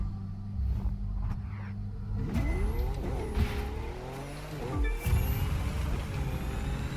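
A hypercar engine from The Crew 2 racing game revs and climbs through sweeping pitch changes, loud and continuous, with a sharp downshift near the end and steady roar throughout, no voices.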